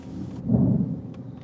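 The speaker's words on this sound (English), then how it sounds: "Roll the window down just a little bit, let y'all hear some thunder too." A short, low rumble of storm thunder swells and fades within about a second, heard from inside a vehicle during a severe-weather chase in Kentucky or Illinois.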